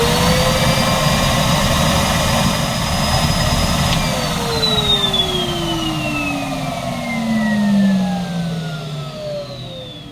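A Numatic Hetty Xtend vacuum cleaner runs close and loud, a steady motor roar and whine that later drops in pitch as it winds down, with no talking.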